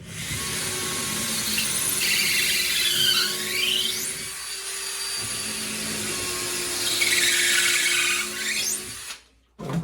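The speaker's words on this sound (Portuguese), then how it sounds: "Essa furação antes de colocar o parafuso, cara, é sempre importante quando você vai colocar parafuso no meio do MDF" Power drill boring a pilot hole into MDF during wardrobe rework, a close, loud whining motor with rising and falling pitch sweeps as the bit bites, briefly easing midway before stopping at the end.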